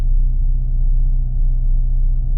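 A car engine idles steadily after a rear motor mount install, with a low, even rumble close by and no voices.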